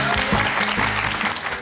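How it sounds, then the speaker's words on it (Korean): A lecture hall audience gives a short burst of steady applause for a professor after a talk, many hands clapping close and loud for under two seconds. "오늘 좋은 강연 들려주신 우리 교수님께 다시 한번 박수 부탁드리겠습니다"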